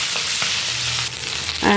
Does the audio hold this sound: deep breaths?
no